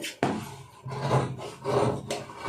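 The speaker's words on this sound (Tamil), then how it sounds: "இப்போ நான் சும்மா ரஃப்பாக வந்து கட் பண்ணி வைக்க போகிறேன்" Blouse fabric being cut roughly with scissors for three blouses at once, giving a few close, rasping snips and slides in quick succession with short pauses between them.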